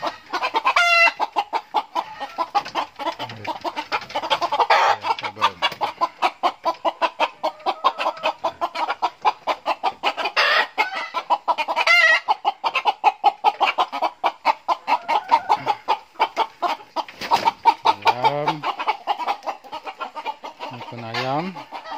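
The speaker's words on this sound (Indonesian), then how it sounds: "ayam Sabung." Fighting-breed (ayam sabung) chickens cluck and squawk continuously at close range on a poultry farm, dense overlapping calls of several birds, with a few louder drawn-out cries scattered throughout.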